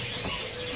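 Birds call faintly at a bird seller's kiosk, soft cooing and light chirps drifting through the quiet background in a brief stretch.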